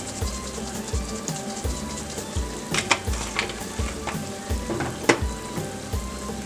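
Seasoned tomato paste sizzles in a pan as it is stirred, a constant crackling fry with repeated soft scrapes and clinks of the spoon against the pan.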